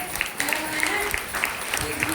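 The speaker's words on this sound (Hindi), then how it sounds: "आज सर जी के लिए जबरदस्त ताली होना चाहिए।" Audience applause, a dense patter of many hands clapping at moderate volume, with voices mixed in.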